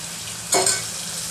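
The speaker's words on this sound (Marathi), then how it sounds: "आता आपण मटण घालून घेऊया त्याच्यामध्ये" Mutton pieces dropped into hot oil and fried spice tempering for a mutton trotters gravy, giving a short, sharp sizzle burst that quickly settles into a steady low hiss.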